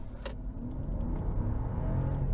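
A Mercedes-Maybach S680 launching from a standstill in sports mode, a steady low engine rumble and road roar building smoothly and continuously rather than in sharp revs, close and fairly loud.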